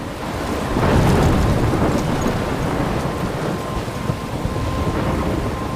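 A thunderstorm in the video game Life is Strange: a loud, continuous rumble of heavy rain and wind with a deep roll of thunder swelling early on, without any speech.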